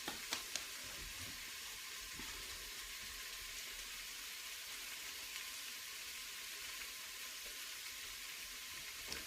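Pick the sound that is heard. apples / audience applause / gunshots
apples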